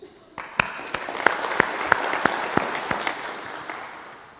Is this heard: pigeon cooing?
no